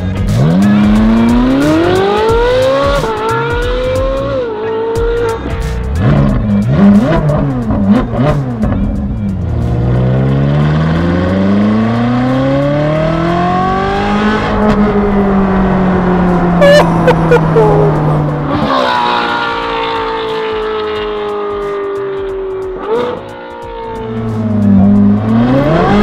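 A Ferrari 458 with a naturally aspirated 4.5 litre V8 revs hard through repeated climbing and falling sweeps, loud and near, with sharp gear-change drops and a long rising pull through acceleration.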